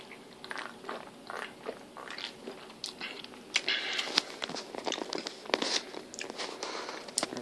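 Tasting a tropical mango energy drink, heard as a run of crisp mouth clicks, slurps and smacks from close up, with no talking.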